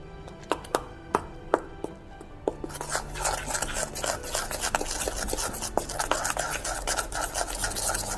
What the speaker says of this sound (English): Add 1 cup all-purpose flour. Nicely mix it.